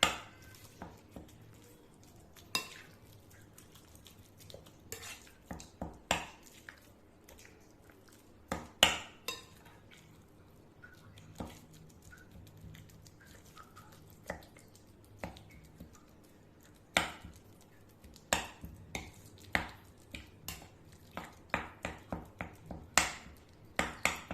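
Kebab mince for Irani kabab being mixed by hand with salt and black pepper in a bowl, giving irregular clinks and taps of utensil on dish scattered through soft squelching, fairly quiet and close with no talking.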